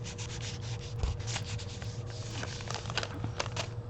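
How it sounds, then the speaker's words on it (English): Paint scraped across the page of a mini magazine art journal, a steady close rubbing and scratching with repeated strokes and no talk. "And I'm just going to scrape on some paint."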